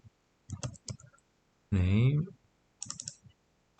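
Keys clatter in quick bursts of typing on a computer keyboard, short clusters of clicks separated by pauses, with a brief spoken voice in the middle.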